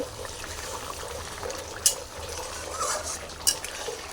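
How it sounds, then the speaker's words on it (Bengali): Prawn malai curry with garam masala stirred in a pan makes a soft continuous wet scraping, with two brief metallic clinks of a spoon against the pan, close and moderately loud, no voices. "নাড়িয়ে নেব"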